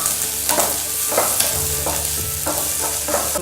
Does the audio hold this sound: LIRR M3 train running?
no